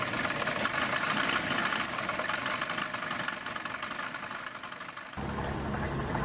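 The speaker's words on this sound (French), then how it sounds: "Casque enfilé, moteur enclenché et c'est parti pour le décollage." Small aircraft engine running after start-up before takeoff, a loud continuous droning rumble with steady vibration, dipping slightly then rising again toward the end, with no voices.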